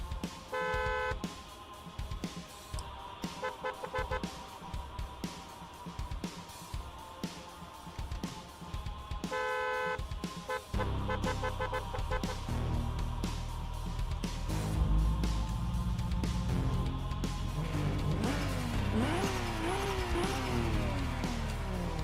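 A Toyota Supra revs in a drifting video game, its steady synthetic engine drone rising and falling with a brief horn-like tone, later growing louder with sweeping pitch changes, continuous and close without talk.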